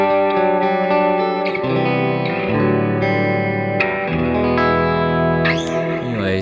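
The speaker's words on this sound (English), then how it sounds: "this is my clean sound" Electric guitar played through a clean amp tone, sustained chords and melodic notes ringing with chorus and reverb, steady and full without talk.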